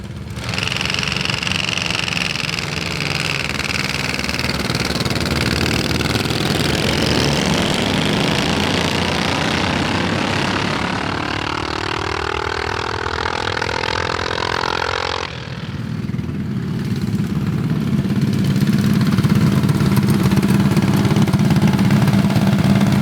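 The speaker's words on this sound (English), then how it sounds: "It acted like there was only one engine on the line." A 45 HP three-engine mini bike at a drag strip, its engines running loud and close for a long stretch, with a sustained, rough drone that drops briefly and then comes back steady.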